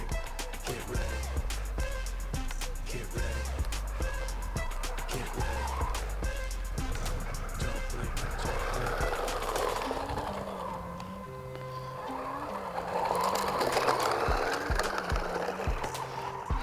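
A high-speed RC car capable of 100 km/h runs over soil and stones, its electric motor whining with shifting pitch and rattling over rough ground, with talk partly overlapping.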